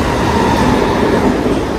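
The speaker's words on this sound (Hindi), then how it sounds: "Mumbai local train" Steady loud rumble of a Mumbai local commuter train running along the tracks, a continuous rolling roar with no voices.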